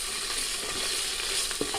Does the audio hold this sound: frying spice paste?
yes